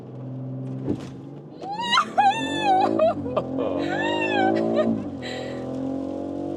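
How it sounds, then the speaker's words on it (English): A BMW X3 M50 accelerates hard, a steady engine drone rising in pitch under squealing, whooping sounds and exclamations from occupants inside the cabin. "Now the M50. Let's accelerate it out."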